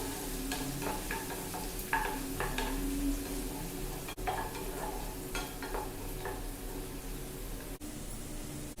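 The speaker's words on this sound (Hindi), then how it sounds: "प्याज को हल्का सा फ्राई करेंगे" Chopped onion and green chili fry gently in hot refined oil for a rice dish, a soft continuous sizzle with spatula stirring and light scraping against the pan, no talking.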